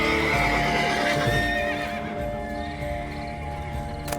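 A horse neighs loudly in The Witcher 3: Wild Hunt, a long, wavering whinny up close, followed by a softer snort and the shuffle of hooves.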